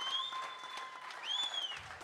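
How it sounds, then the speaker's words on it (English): Steady applause from a crowd at a football and netball club presentation night, with a faint whistling tone gliding above the clapping. "Big round of applause for our Melbourne contingent"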